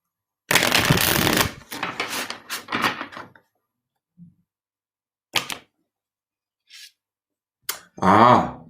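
A Klimt tarot deck is riffled loudly in a long burst, followed by a few shorter shuffles and sharp taps, with silence between.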